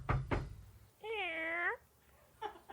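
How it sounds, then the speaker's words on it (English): A pet cat gives one clear, drawn-out meow at close range, with brief knocks and voices just before and after it. "That's our cat."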